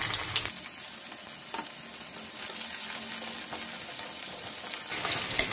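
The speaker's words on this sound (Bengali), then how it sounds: "তেলের মধ্যে একটু ফোড়ন হিসাবে জিরে দিয়ে দিলাম। জিরে, আগে থেকে কেটে রাখা পেঁয়াজটা দিয়ে দিয়েছি।" Chopped onion and cumin seeds fry in hot oil with a steady, close sizzle, occasional stirring scrapes, and no voices.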